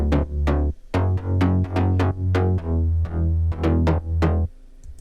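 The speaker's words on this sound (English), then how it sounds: "and then you throw in the sub bass." An electronic drop's bass pluck stacked over a pure, deep sub bass: a rapid run of bright plucking notes riding on a sustained low hum that shifts pitch with the pattern, loud and up front, then stopping abruptly near the end.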